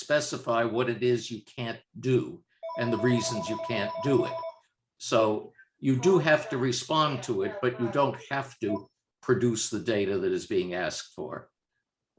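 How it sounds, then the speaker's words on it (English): A telephone rings in the background during an online roundtable, its steady electronic trill partly masked by continuous close speech from a talker. "sorry about that phone ringing in the background."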